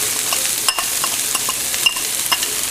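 Carrot and bean poriyal is tossed in a hot tempering of coconut oil, with a steady sizzle broken by several light stirring and scraping clicks from a spoon against the pan.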